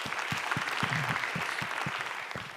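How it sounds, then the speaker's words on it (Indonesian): Studio audience applauding a stand-up comedian at a comedy competition semifinal, steady clapping with a few sharper claps standing out, moderately loud and continuous. "Mukmin, gua kagum banget sih, tepuk tangan dong buat Mukmin."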